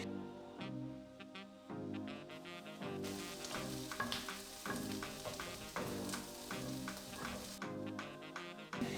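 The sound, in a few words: onions frying and being stirred in ghee and olive oil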